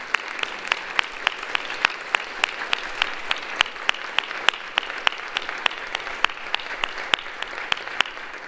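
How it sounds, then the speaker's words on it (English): A worship-service congregation claps together in sustained applause, a dense steady patter of many hands with sharp individual claps standing out, filling the room evenly from start to finish with no talking. "would you join with me now in just giving a round of applause to the women of the women's group?"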